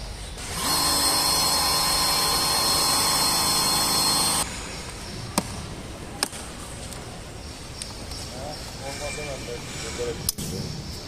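A Bosch UniversalAquatak 36V cordless pressure washer, a 100-bar battery-powered unit, whines loudly and steadily for about four seconds before cutting off, followed by quieter handling sounds and a few sharp clicks.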